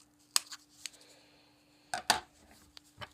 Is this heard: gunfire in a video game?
no